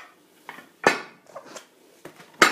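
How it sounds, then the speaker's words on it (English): Plates and a bowl are grabbed in a home kitchen, with several sharp ceramic clatters and clinks spaced irregularly, close and moderately loud. "I'm going to go and grab some plates and a bowl"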